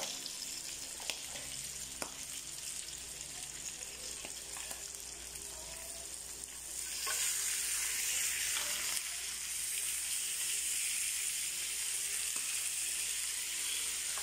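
Pork chop sizzling and frying on an electric grill, a steady close hiss of fat that swells louder partway through as the meat is turned, with faint scrapes and clicks from handling.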